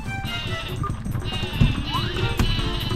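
Sheep bleats from the Sleepy Sheep item in the Paper Mario video game rise in short wavering calls over busy game music and effects.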